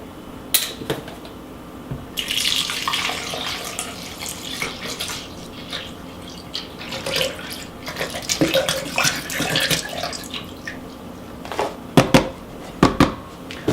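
Almond milk poured for a smoothie, about eight ounces: a steady liquid pour running for several seconds, followed by a few sharp knocks and clunks near the end, with no voices.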